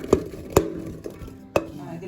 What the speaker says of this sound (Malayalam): നമുക്കിത് ഇങ്ങനെ കൊത്തി അരിഞ്ഞെടുക്കാം